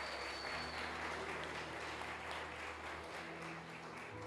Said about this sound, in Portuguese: Dê uma salva de palmas pela vida do Pastor Lucas.